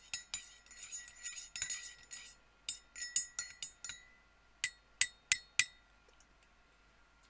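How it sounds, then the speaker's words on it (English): A spoon clinks against the inside of a tea cup with sugar stirred in. It starts as a quick cluster of taps, then settles into sparse, sharp, isolated clinks, close and clear with no talk. "I'm actually wondering if the tea needs a bit of a stir."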